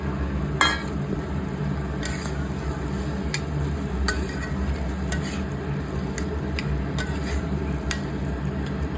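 Prawns cook in a pan, a low steady sizzle and bubbling under scattered light metallic clinks and stirring taps from a utensil, with no voices.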